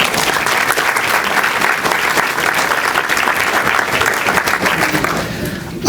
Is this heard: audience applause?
yes